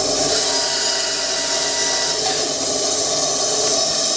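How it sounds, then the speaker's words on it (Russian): A Redverg RD BS-152 benchtop band saw cuts across a small wooden block, giving a steady, loud whirring drone with a harsh, noisy cutting hiss that holds unbroken throughout. "Пилить мы будем вот такой вот брусочек, сейчас мы сперва отпилим его вдоль, то есть поперек."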